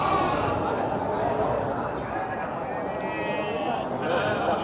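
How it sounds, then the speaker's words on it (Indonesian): Garut fighting sheep bleat at the busy Tanjungsari sheep market, their calls mixed into steady crowd chatter while a person talks nearby. "di depan saya ini sudah berada domba Garut jenis tangkas pertama ya yang akan saya review"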